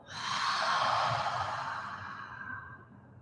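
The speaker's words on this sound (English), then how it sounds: "Inhale deeply, exhale audibly." A single long, breathy exhale during a yoga breathing exercise, loud and close, rising quickly then fading out slowly over about three seconds, with no talking.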